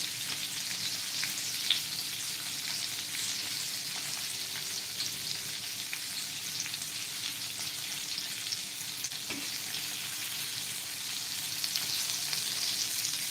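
Bangda mackerel frying in a pan gives a steady, close sizzle that runs the whole time with no voices, with faint stirring or shifting of the fish now and then.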